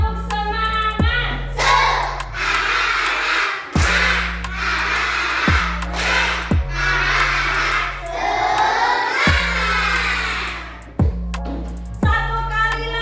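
A class of schoolchildren performs a rhythmic clapping chant, loud crowd voices shouting in unison between sharp, regularly spaced claps, with background music tones running underneath throughout.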